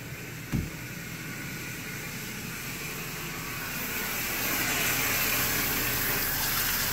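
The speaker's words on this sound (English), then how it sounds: "There's the water coming." Tap water rushes through a Python siphon hose set up for a reef aquarium water change, a steady close hiss and gush after a brief thump, growing slightly louder toward the end.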